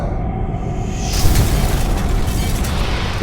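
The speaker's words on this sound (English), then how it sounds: "Explosions are necessary in any film." A film explosion in a documentary bursts in with a sudden boom about a second in, then a loud, rumbling roar carries on to the end.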